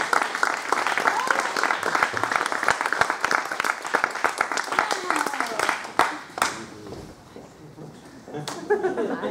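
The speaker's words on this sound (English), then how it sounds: "Can we give him another round of applause?" Audience applause at a poetry reading breaks out as a thick, crackling wash of many hands for about six seconds, then thins into a few scattered claps as a voice begins to speak.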